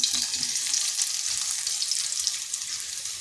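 Potatoes frying in a pan for a vegetarian Bengali dish: a bright, steady hissing sizzle with faint stirring clatter, close and continuous.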